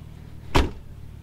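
A 1988 Nissan Skyline R31 turbo coupe door shuts with a single solid thump midway through, close and fairly loud against a low steady background hum.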